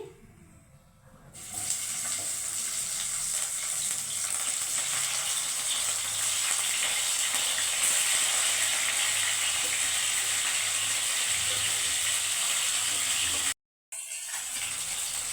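Bhetki fish frying in a pan on low gas heat, a steady, close hiss and crackle of oil running continuously, briefly cut off near the end before resuming.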